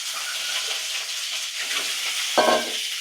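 Eggs fry in a little oil in a home kitchen pan, a constant close sizzle that ends with a short metallic clank near the end.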